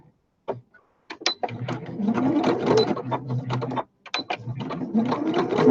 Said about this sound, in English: so we'll carry on sewing.